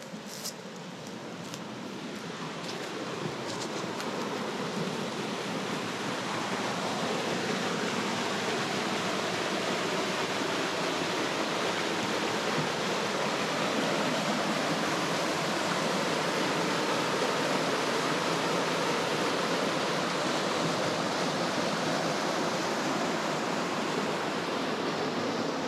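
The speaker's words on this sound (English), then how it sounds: "we found a really cool waterfall" A waterfall roars in a steady, dense rush of falling water, close and unbroken throughout with no voices over it.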